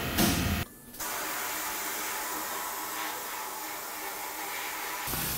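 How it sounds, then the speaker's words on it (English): A torch flame roars steadily while burning undercoating off a wheelhouse during rust repair on a 1969 Ford Torino Cobra Jet. A brief loud burst comes first, then a continuous close hiss for several seconds. "I'll get the torch and a scraper and remove that"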